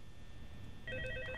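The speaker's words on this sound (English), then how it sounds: "I got a phone call." In Roblox FNAF, a phone's electronic ring begins partway through and repeats quickly in a bright warble over a low rumbling background, faint and distant.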